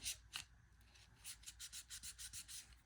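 Rag rubbing up and down an FN Five Seven pistol slide during cleaning, a close, quiet rhythmic swishing of about a dozen short strokes, with one brief louder scrape near the start.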